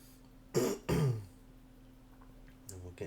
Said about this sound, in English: Sorry I keep doing like little coughs